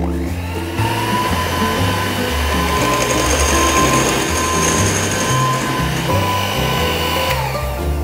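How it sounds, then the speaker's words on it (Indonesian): Electric mixer beating batter at low speed, a steady loud motor whir with a faint rhythmic churn that starts abruptly and stops near the end, with no talk. "ini akan kita kocok menggunakan speed yang rendah sampai dia benar-benar tercampur rata"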